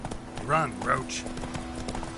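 Horse Roach in The Witcher 3 with hooves clopping under a voice and a steady background tone, the gallop faint and partly masked by speech.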